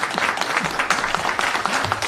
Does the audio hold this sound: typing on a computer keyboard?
no